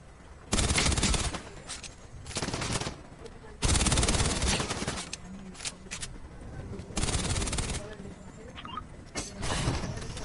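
Bursts of automatic gunfire in the video game Fortnite come in several loud volleys separated by short pauses, with faint talk in the gaps.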